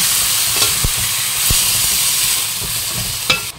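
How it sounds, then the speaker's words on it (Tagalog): Chicken for a creamy chicken pastel being stirred and fried in a pan, a loud continuous sizzle with a few sharp scrapes and clunks of the utensil, no talking. "Yan, halo-haloin lang natin."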